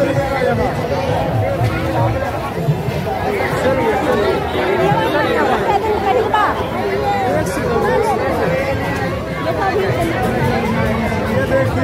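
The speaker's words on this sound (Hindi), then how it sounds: "ये भाई लोग देखिए भीड़ किस तरीके का है भाई" Dense crowd chatter at a Maha Shivratri festival fair, a steady loud babble of many overlapping voices with constant movement and no single voice standing out.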